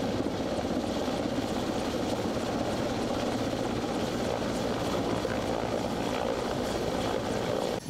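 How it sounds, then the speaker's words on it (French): A military helicopter sets down in a forest, its rotor and engine making a continuous loud whirring roar that stays steady throughout. "Un hélicoptère vient de se poser au cœur d'une forêt"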